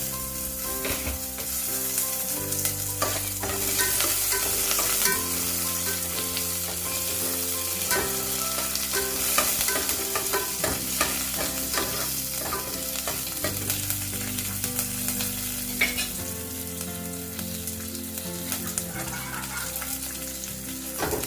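Onions sautéed to light golden brown with curry leaves added give a continuous, even sizzle in a pan, heard under steady background music.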